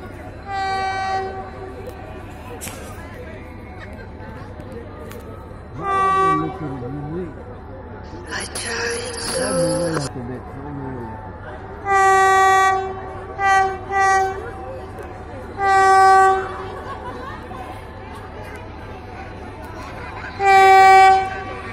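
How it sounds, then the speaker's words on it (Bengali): A Vande Bharat train arriving at Alowabari station sounds its horn in several loud, sustained blasts, the longest near the middle and more around the end, over steady rumbling and a crowd of people talking and cheering. "বন্দে ভারত ট্রেন প্রথম আসছে আলোয়াবাড়ি স্টেশনে।"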